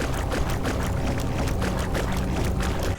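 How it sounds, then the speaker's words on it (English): Footsteps squelching through muddy trenches in the war video game Conscript, a continuous wet, sloshing texture with a loose rhythmic pulse of steps, close and loud. "from the sounds of your footsteps through muddy trenches"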